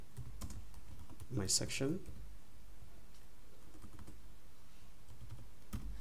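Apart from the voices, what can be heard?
typing a section name on a computer keyboard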